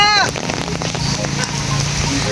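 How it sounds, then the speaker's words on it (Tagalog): Dense, steady heavy rain patters on surfaces all around on the way to a lighthouse, with a short burst of voices at the start and faint talking underneath. "At malakas ang ulan."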